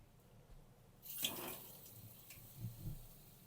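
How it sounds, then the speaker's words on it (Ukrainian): Water gushes from a newly installed tap after a replacement, starting abruptly and running steadily for a few seconds, with faint low knocks near the end. "Ну що ж, запускаємо воду."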